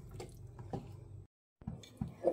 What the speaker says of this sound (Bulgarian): Започвам да пълня бурканите внимателно.